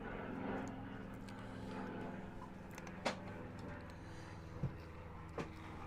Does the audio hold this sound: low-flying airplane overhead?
yes